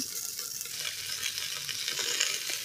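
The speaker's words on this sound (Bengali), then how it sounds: "সামান্য জিরে দিয়ে তার উপরে কেটে রাখা সবজিগুলো দিয়ে দিলাম।" Chopped vegetables with fried onion and cumin sauté in a pressure cooker, making a continuous bright crackling sizzle that grows slightly louder over a few seconds, heard alone without talk.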